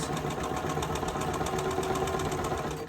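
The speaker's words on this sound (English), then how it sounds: "We're going to put it through the sewing machine" A sewing machine whirs steadily with a fast, even mechanical pulse, stitching fabric for a quilt block at close range, running continuously without any voices.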